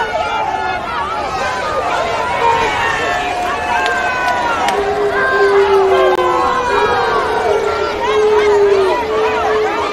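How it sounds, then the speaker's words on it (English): A packed high school basketball gym roars with a dense crowd wash of cheering and chatter, and sneaker squeaks ring out as an announcer talks steadily over the top. "There's the crowd. They're hanging from the rafters."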